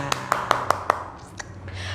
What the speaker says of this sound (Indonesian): Oke, tepuk tangan dulu dong buat kalian.